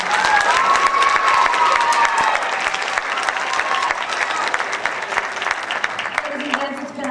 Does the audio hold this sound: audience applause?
yes